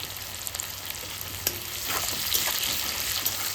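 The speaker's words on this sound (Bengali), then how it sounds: "এবার আমি পেঁয়াজটা দিয়ে দেবো পরিমাণ মতো" Onion frying in a pan for a Bengali chicken mince and split chickpea curry, a dense steady sizzle with crackling that grows slightly louder partway through.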